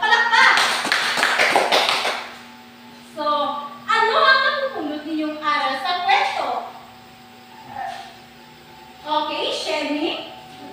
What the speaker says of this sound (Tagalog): Bigyan natin si Shelly ng 5 bagsak na palakpak!